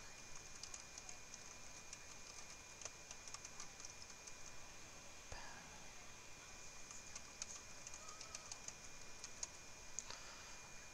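An email address is typed on a computer keyboard, soft irregular key clicks sounding faintly over a low, steady room hum, with no one talking.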